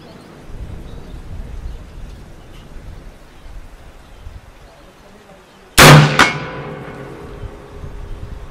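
A long Lee-Enfield/Metford .303 British target rifle firing Mk7 cordite ammunition in South Africa lets off a single loud, sharp shot after several seconds of quiet outdoor ambience, followed by a rolling echo that slowly fades.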